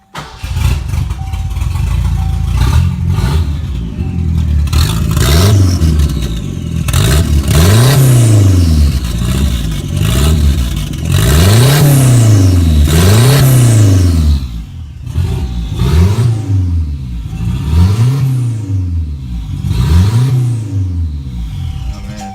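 A turbocharged Ford Turbo Coupe with an open downpipe revs again and again in loud, close, evenly spaced surges, each swell carrying a rising turbo whistle that drops back off, with short pauses between the bursts.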